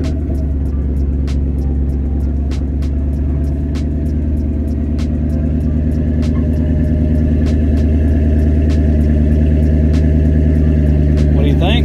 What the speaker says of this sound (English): Pulling back in the garage.